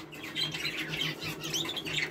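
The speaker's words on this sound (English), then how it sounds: "So these are 2 canaries in here." Canaries in an aviary call with bright, rapid chirps and squawky tweets, close and busy over a faint low background hum, no voices.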